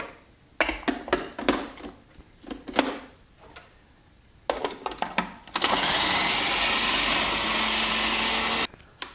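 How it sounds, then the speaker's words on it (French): A kitchen blender whirs through mango for light ice cream, starting in short choppy pulses that stop and restart, then settling into one long, loud continuous run before cutting off near the end; no talking. "je vais mixer comme ça par petite quantité parce que là, ça ne va pas se mélanger"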